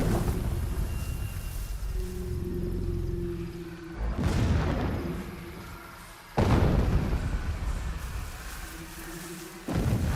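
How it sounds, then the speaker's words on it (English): Explosions in the video game Horizon Zero Dawn: two heavy booms, each a sudden broadband blast that rumbles on for seconds, over steady background game noise with a faint hum. "I also feel like the explosions are getting louder and louder."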